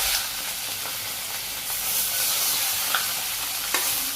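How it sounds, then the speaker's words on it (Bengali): Small fish frying in hot oil give off a dense, steady hiss and crackle close by, with a couple of light clicks from a utensil. "তেল গরম হয়ে গেছে, মাছগুলো ছেড়ে দিই। তো প্রথম বাজির মাছগুলো ভেজে নিই"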